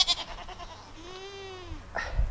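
Goats on a farm bleat close by, one long wavering cry rising and falling in pitch, with a shorter call just before and another after it, over quiet background noise.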